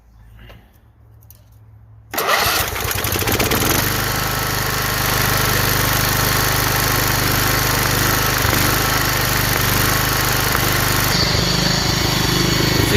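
A Toro Proline walk-behind mower with a 14HP Kohler engine and 44-inch deck starts abruptly after a quiet moment, then runs on at a steady, loud, close drone.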